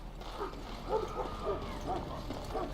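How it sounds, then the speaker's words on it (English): Several yapping dog barks in quick succession, slightly distant, over a low steady hum, from the video game Dragon Age: Origins. "You can hear the barking in the background."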